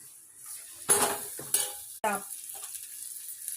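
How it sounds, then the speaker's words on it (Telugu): Boiled peas and chickpeas tipped into a hot pan of fried tomatoes and stirred, a few sharp scrapes and clatters of a spoon against metal with a brief sizzle, close up. "వేగిపోయిన తర్వాత ఈ బఠానాలు గుగ్గుళ్ళు అన్నీ ఎత్తి పెనంలో వేసుకోవాలి"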